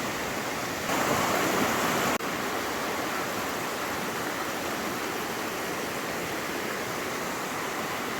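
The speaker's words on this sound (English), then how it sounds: "And a lovely river that's flowing under it to go up that feed Loch Shiel" A river rushes under the Glenfinnan viaduct on its way to Loch Shiel, a steady broadband roar of flowing water with no voices, briefly louder for a moment near the start.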